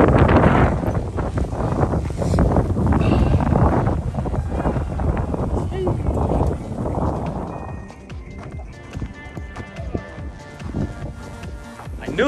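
Heavy wind buffets the microphone in loud, rumbling gusts while fishing at Treasure Island in the San Francisco Bay Area, easing off toward the end, leaving faint crackling noise.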